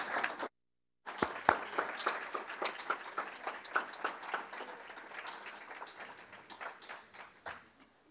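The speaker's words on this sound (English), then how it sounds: "Let's give another round of applause." An awards-ceremony audience claps in sustained, dense applause after a brief silent gap, the steady patter slowly easing off toward the end.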